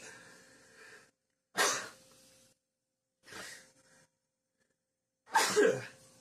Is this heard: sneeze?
yes